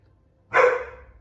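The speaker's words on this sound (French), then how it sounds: "Et ça, c'était mon chien." A single short bark rings out close by after a moment of quiet, then fades quickly.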